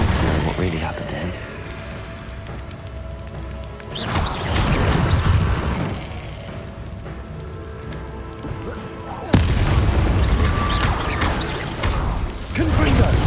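Blasting spell explosions in Hogwarts Legacy, a fantasy video game: loud bursts and crashing booms arrive in a few separate hits, each with a rumbling tail, among whooshes and clattering effects.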